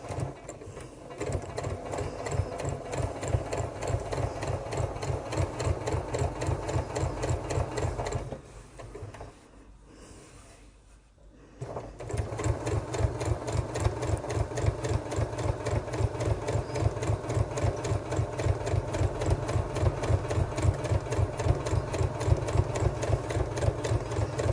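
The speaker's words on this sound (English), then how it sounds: "I'm just going to sew about 1/8 of an inch away from the edge." Sewing machine stitching a bag seam about an eighth of an inch from the edge at stitch length 3, a rapid, steady mechanical chatter that pauses for a few seconds midway, then resumes.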